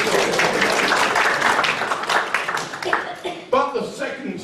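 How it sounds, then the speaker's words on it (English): Audience applause after a carol at a choir's Christmas concert, a dense sustained round of clapping that thins toward the end, with a few scattered louder claps and cheers. "a round of applause, please"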